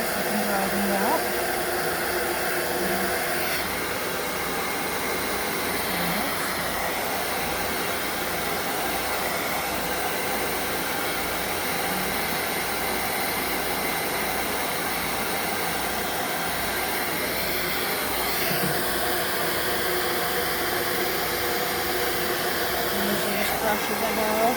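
A hair dryer blows steadily and loudly while drying a kitten. The constant whooshing drone runs without a break, and a person speaks faintly beneath it.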